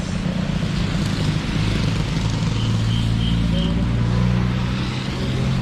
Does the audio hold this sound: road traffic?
yes